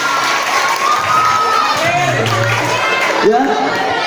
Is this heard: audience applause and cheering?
yes